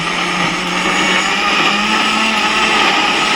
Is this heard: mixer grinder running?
yes